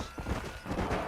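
Horse hooves clip-clop in the Red Dead Redemption video game, a few quick uneven steps close by over a soft background.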